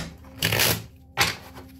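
Tarot cards being shuffled in two quick riffling bursts, close and crisp, with a short pause between them and no talking.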